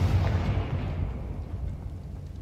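A Confringo blasting-spell explosion in Hogwarts Legacy, heard as one loud, close, deep boom that rumbles and fades away over about two seconds.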